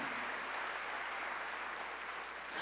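A church congregation claps together during a sermon, producing a continuous, fairly soft patter of many hands that holds steady throughout and then tails off slightly near the end.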